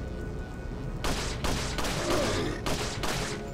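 Several sharp gunshots from the video game Resident Evil 4 HD Edition fire in an uneven sequence, loud and close over a steady background hum.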